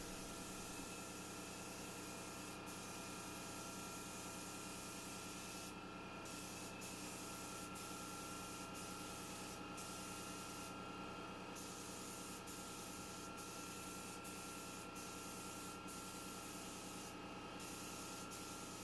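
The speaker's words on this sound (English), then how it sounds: "I just spray 3 coats of this, allowing it to dry an hour in between each coat." Continuous hiss of a sprayer applying water-based satin polyurethane topcoat to a vintage dresser, steady and close, with brief louder bursts scattered through the pass.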